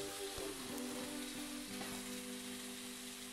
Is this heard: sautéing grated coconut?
yes